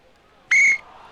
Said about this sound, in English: Whistle, and that's Robinson again.